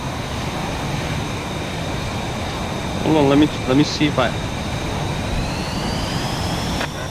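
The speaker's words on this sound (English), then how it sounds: "I see you're testing your afterburner here. It's so noisy." In the flight game VTOL VR, a jet afterburner roars as a steady, broad, rushing noise throughout, while a person talks briefly over it midway.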